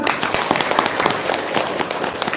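An audience breaks into applause, a dense spread of many hands clapping at once with uneven peaks, sustained and moderately loud throughout.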